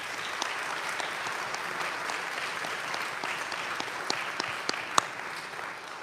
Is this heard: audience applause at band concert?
yes